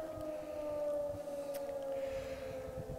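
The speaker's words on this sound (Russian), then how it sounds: "Вот 3 часа загудели" Civil defense sirens wail in a steady, sustained tone during a routine weekly Wednesday test at a military unit's barracks area, sounding continuously and fairly distant across the open grounds.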